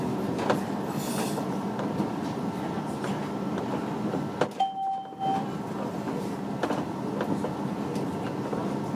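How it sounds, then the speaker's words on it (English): A modern tram rolls along the Stockholm waterfront toward Djurgarden with a steady rumble and clatter, and a brief chime sounds partway through. "My journey to Djurgarden was by modern tram, which sped along the waterfront past the many waiting tour boats."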